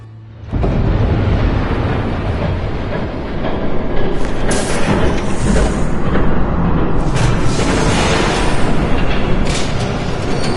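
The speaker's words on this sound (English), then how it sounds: "There's a train coming." In Batman: The Telltale Series, a train approaches with a loud, sustained rumbling roar that rises and swells with bursts of rattling noise, growing heavier as it draws near.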